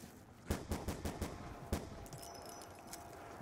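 Rapid machine-gun bursts in the video game Call of Duty: Ghosts, a run of about six sharp shots followed by a single louder crack, then a quieter tail of fainter game sounds.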